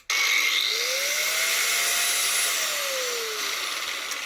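An angle grinder cuts through a rounded-off 13mm bolt on a car's rear subframe, a loud continuous high whine that starts abruptly and holds steady close by, with the pitch dipping and rising under load.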